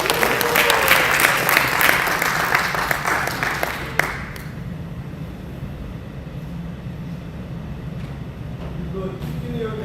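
An audience in a conference hall at a Korean book concert claps to welcome a guest speaker. The dense applause lasts about four seconds and fades into a low rumbling room hum.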